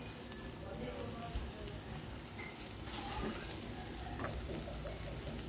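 Spices frying in oil with tomato for a black chickpea curry, heard as a quiet, even crackling and spitting like light rain on a surface, steady throughout.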